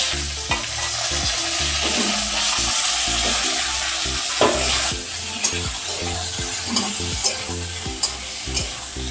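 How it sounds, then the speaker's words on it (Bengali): Black mustard seeds and dried red chillies crackle and pop in hot oil as mango pieces go in and are stirred; a steady loud sizzle with rhythmic stirring scrapes and scattered sharp pops, no voices. "সর্ষেগুলো আমি একটু এরকম করে ফাটিয়ে দিচ্ছি। আমগুলো দিয়ে দিচ্ছি।"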